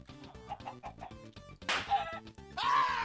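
Minecraft chicken clucking in short repeated bursts against game music, with a couple of louder squawk-like calls late in the clip.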